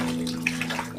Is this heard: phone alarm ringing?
no